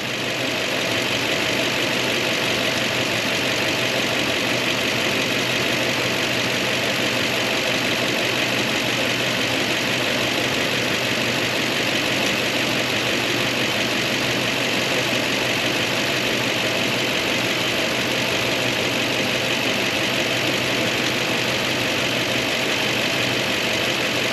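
A Toyota 2UZ-FE V8 engine idles steadily and evenly close by after a timing belt service, with a constant low rumble and no voices.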